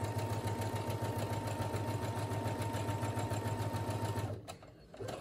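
A Brother SE1900 sewing machine runs continuously while backstitching face mask fabric, its close, loud motor hum and rapid needle rhythm holding steady before stopping abruptly near the end.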